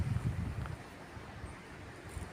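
Low, gusty wind in Italy buffets the microphone in uneven rumbles, fairly faint, with no clear voices.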